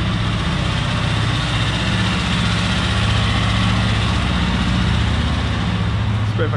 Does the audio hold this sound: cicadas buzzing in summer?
no